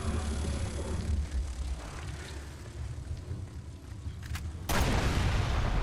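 A loud explosion in the Resident Evil Revelations 2 video game on PS4, a heavy rumbling blast roar that swells and then jumps to a sudden harsher burst near the end.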